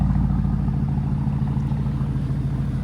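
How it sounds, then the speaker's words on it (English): Exhaust note of a 2021 Porsche Cayenne GTS with an APR Stage 1 tune, idling steadily inside an enclosed building as a low, even rumble with a faint pulsing texture and no talk over it. "You can hear that exhaust note."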